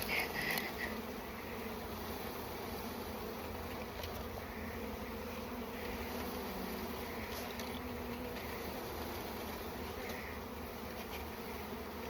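A swarm of Carniolan honey bees buzzing during installation into a hive, a dense, continuous drone that stays steady and close for the whole stretch with no voices.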